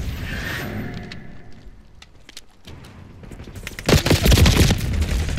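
Rapid gunfire bursts from the Call of Duty: Black Ops 6 beta, scattered sharp shots early, then dense, loud, continuous firing with mechanical clatter in the second half.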